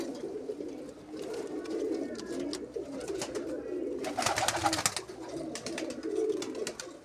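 Pigeons kept at a loft coo softly in a low, murmuring chorus of overlapping calls, with a brief flurry of sharper rustling midway, fairly quiet and with no talk.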